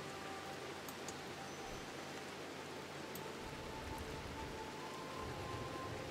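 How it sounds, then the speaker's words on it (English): Steady, soft rain falls in the RimWorld game, a faint continuous hiss of drops with no other clear sounds. "And it's raining now."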